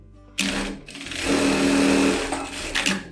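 Sun Special industrial straight-stitch sewing machine stitching crepe knit fabric, a steady loud mechanical whir that ramps up, runs continuously, then slows near the end.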